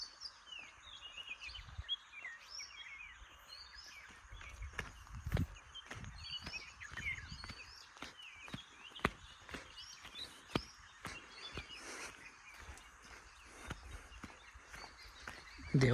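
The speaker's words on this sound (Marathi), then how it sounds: "पक्ष्यांचा किलबिलाट जिकडे तिकडे चालू आहे." Many birds chirp and twitter all around a village temple, a busy chorus of short calls spread across the whole stretch, mixed with intermittent footstep-like thuds and rustles nearby.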